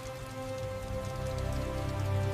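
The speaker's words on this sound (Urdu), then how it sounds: "ایک رات موسلا دھار بارش ہو رہی تھی، آندھی چل رہی تھی۔" Heavy downpour drums steadily and loudly on surfaces, a dense continuous hiss of rain with no letup and no voices over it.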